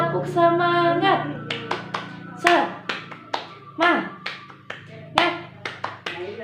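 Children in a class clap out a rhythmic spirit cheer, sharp hand claps in quick patterned bursts alternating with chanted voices, close and lively, with speech mixed throughout.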